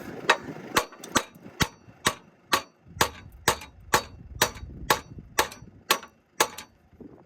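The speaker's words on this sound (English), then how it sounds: "and then tap it with a hammer" Sharp metallic taps from a hammer striking a metal part on a dumper that won't start, about fifteen evenly spaced blows in a steady rhythm, close and fairly loud.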